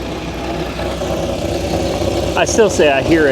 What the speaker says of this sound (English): Let's take a listen to this engine.